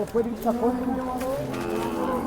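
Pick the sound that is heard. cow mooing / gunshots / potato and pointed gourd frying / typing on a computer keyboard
cow mooing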